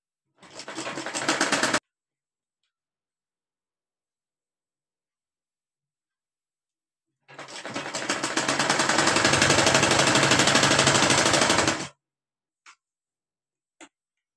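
An electric sewing machine stitches fabric for a baby cap in two bursts, one short at the start and one longer of about four seconds in the middle, then a couple of faint clicks in the near-silence.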